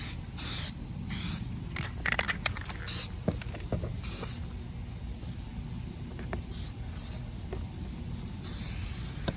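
Bursts of aerosol spraying hiss in short repeated blasts, some brief and some longer, with light handling noises between them.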